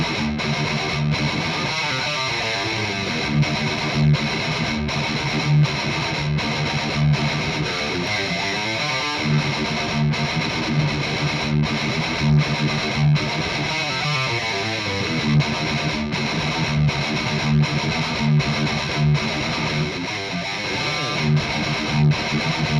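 Heavily distorted electric guitar plays chugging riffs through a Marshall DSL20, miked with an SM57 on a 1x12 Recto cab with a V30 speaker, thick and loud, with sustained chords and brief palm-muted stops.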